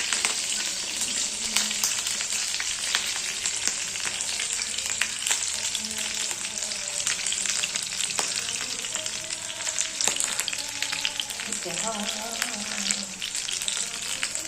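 Green chilies roast in a frying pan with a steady, close hiss of hot oil, broken by occasional scrapes and stirring clinks.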